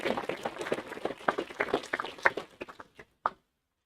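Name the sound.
audience applause for students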